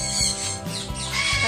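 Several pet parrots squawk loudly from a nearby swing, a few sharp calls rising over constant chatter and cage noise indoors.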